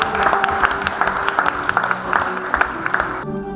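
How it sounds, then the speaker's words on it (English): Audience at a rural training awards night claps steadily in a sustained round of applause, fairly close and full, ending abruptly near the close with a little talk beneath. "Big round of applause"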